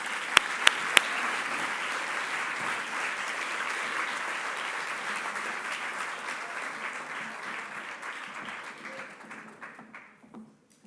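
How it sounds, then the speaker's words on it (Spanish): A debate-tournament audience in Galicia gives a steady round of applause for the director of the Fundación Barrié, a dense crowd sound with a few sharp taps at the start that fades out toward the end. "así que pido un aplauso para ella."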